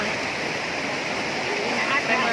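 Steady broadband rushing of river water flowing along a riverbank, continuous and fairly close, with no clear voices over it.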